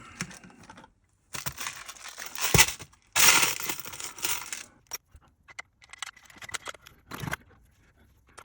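Small screws being handled for a Tamiya 1/14 King Hauler RC truck chassis, with close, bright clinks, rattles and rustling in irregular bursts separated by short silences.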